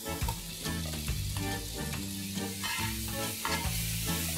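Chopped tomatoes sauté in oil for pav bhaji with a steady sizzle, while a spatula stirs and scrapes the pan at repeated intervals, and background music plays underneath.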